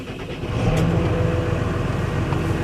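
A tractor engine runs steadily and loudly as the vehicle sets off, with a low rumbling drone that picks up slightly after a moment and holds without talk.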